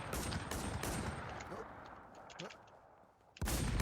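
Rapid bursts of gunfire in a shooting video game, loud broadband volleys starting and stopping over a dense game background, with a louder burst returning at the end.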